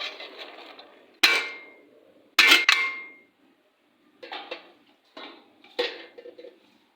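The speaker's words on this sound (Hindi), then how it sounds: "ये देखिए ये अब इसके अंदर सेवइयाँ जा रही हैं" Vermicelli being dropped into a cooking pot and stirred, producing a few sharp metallic clangs and scrapes in separate bursts with quiet gaps between them.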